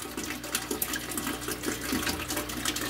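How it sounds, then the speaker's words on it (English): Steady water rushes and gurgles as it drains through a sump tube of a freshwater turtle tank filtration system, a continuous splashing flow with no voices. "the water is just gonna finish draining into the tube"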